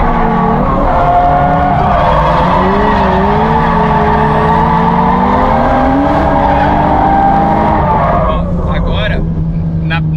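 A drift car slides through a final corner at practice, its engine wailing with shifting pitch and tires squealing loudly and continuously for most of the run, easing off near the end.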